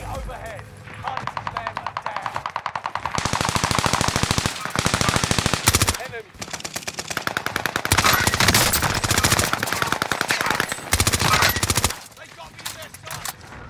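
Rapid bursts of OTS 9 submachine gun fire in the battle royale game Fortune's Keep, long rattling volleys broken by short pauses, loud and close, with a voice talking over parts of it.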